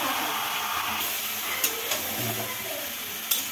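Plain, unmarinated chicken pieces fry lightly in a pan with a soft, steady sizzle and hiss, broken by a few faint clicks of stirring.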